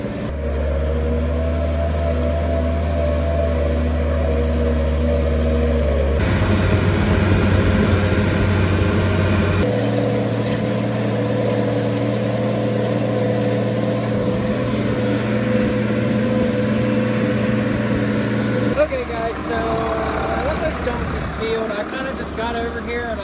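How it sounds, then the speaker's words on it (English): Tractor pulling a chisel plow through a field, a loud steady engine drone with strong low hum, shifting load at a couple of points, continuous and close from the cab. "I love running this tractor."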